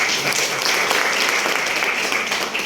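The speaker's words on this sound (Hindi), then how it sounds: "एक बार आप सबके लिए जोरदार ताली।" Enthusiastic applause from an indoor audience welcoming first-time attendees at a business seminar, a steady, dense wash of many hands clapping at once, loud and continuous without a break.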